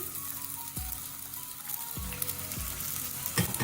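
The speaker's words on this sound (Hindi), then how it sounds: "अब साथ ही हम प्याज शामिल कर देंगे" Finely chopped medium onions fry in hot oil with cumin, giving a continuous near sizzle with a few low thuds of a stirring spoon.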